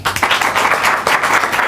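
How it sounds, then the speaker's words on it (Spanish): Studio audience applause on a Spanish comedy podcast show, a brief burst of dense, energetic clapping that starts abruptly and stays loud and even throughout. "¡Cabecera y aplauso!"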